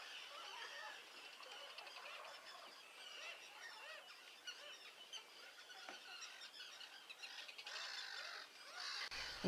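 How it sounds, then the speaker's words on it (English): A dense chorus of shrill gulls and terns, squealing and chattering continuously over each other at a moderate distance, with no voices. "the gulls and terns are as noisy as ever"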